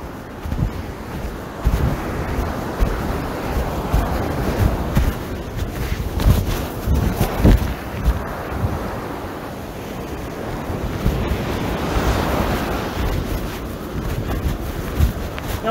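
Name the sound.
wind blowing on a Florida beach with surf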